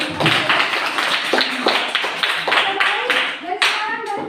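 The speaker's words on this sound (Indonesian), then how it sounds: "kita berikan tepuk tangan" A classroom of students clapping their hands together in quick, even beats during a school lesson, with voices talking over the clapping and some rising calls near the end.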